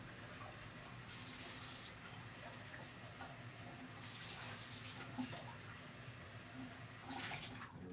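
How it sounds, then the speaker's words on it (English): A tap runs water steadily into a coffee mug being rinsed out at a sink, a soft continuous splashing with a few brief surges of louder flow, heard alone without talk. "I'll wash it out for my mom."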